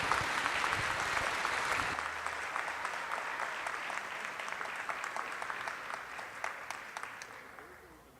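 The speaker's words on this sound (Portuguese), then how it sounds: "E pode aplaudir também." Applause from guests at a traditional ceremony, a dense wash of clapping that stays steady then slowly thins and fades away, heard alone without talk.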